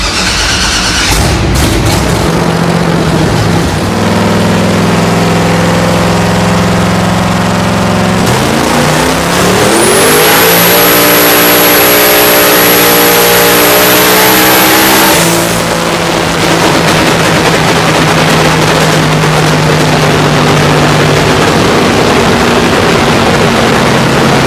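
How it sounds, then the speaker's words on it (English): A twin-turbo LS engine fitted with cast or billet turbo impellers revs hard with a loud, sustained roar, surging to a higher pitch midway with a sharp turbo whine on top before settling back to a steady drone. "I revved it out a little more just because I could feel the converter"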